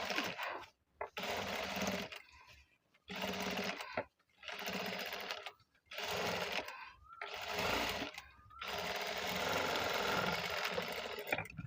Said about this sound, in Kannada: ಈ ರೀತಿ ಫಸ್ಟು ಲೈನಿಂಗ್ ಮೇಲೆ ಒಂದು ಸ್ಟಿಚ್ ಹಾಕೋಬಿಡಿ